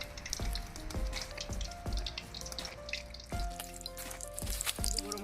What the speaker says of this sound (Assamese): গৰম হৈ গ'ল, এতিয়া আমি পিঁয়াজটা দি লওঁ।